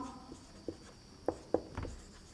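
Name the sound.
writing on a board during a physics lesson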